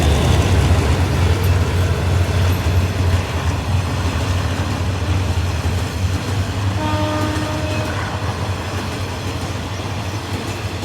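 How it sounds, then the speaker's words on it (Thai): A Hitachi 4508 diesel locomotive hauls special express train 31, Thaksinarat, from Bang Bamru towards Hat Yai. It passes close by with a loud, continuous engine rumble and rolling rail noise, and a brief horn tone sounds midway. "ขบวนด่วนพิเศษทักษิณารัตที่31นะครับ วันนี้ทำขบวนโดย ฮิตาชิ 4508"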